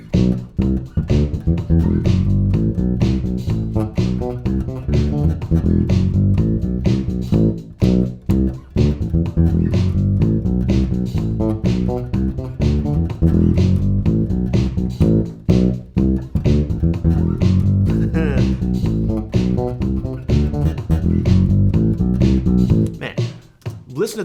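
Disco bass line played on bass guitar, with busy, steady, short plucked notes running continuously and loud, in a full groove with no talking.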